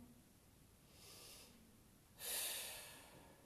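Deep breathing during a morning yoga session, with a soft breath heard first, then a stronger, louder exhale that fades slowly, close and unaccompanied by speech.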